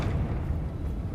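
A Confringo fire spell from Hogwarts Legacy erupts in a dense, roaring blast, heavy in the low end. It stays loud and sustained for about a second, with no talk over it.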